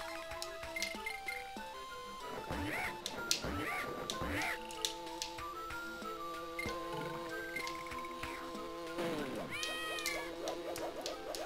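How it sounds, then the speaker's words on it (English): Cat-faced peacock enemies in Donkey Kong Country 2 for the Game Boy Advance let out several swooping, meow-like electronic cries over chirpy game music and effects, recurring across the clip. "They're like peacocks with cat faces that make cat noises."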